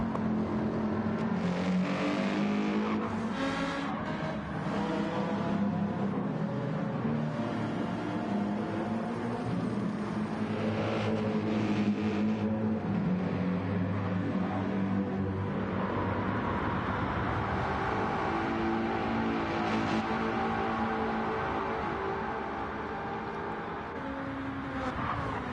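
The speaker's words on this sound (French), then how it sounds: "ça permettrait à notre cher Etienne de repasser avec sa Mercedes sur le 3ème place qui lui avait été pris par Nono" GT3 race cars, including a Mercedes, battle on the Barcelona circuit in a racing video game, with loud, continuous engine wails rising and falling through gear changes and cars close together.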